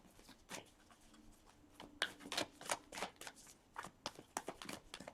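Oracle cards are shuffled close by, with a quiet run of soft, irregular riffling and slapping bursts and brief pauses between them.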